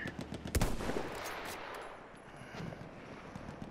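Pistol fire in a first-person shooter video game: a quick burst of sharp, fairly quiet shots early on, then scattered fainter pops over muffled game noise, with no talk.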